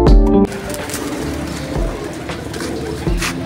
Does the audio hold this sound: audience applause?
no